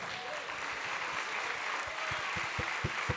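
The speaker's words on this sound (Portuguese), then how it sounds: "Aplauda bem forte ao Senhor." A congregation at a church service claps loudly for the Lord, with broad, continuous applause from a crowd filling the whole stretch and a few low thumps mixed in.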